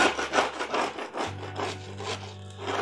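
Saturated sealant being scraped from around a skylight hole, heard up close as a run of rhythmic rasping strokes with no voices. A low steady hum joins partway through.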